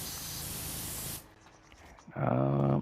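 A pressure washer in the video game PowerWash Simulator 2 sprays down a small mouse figure. A steady, loud hiss cuts off abruptly, then after a short quiet stretch a louder, tonal rush of spray follows.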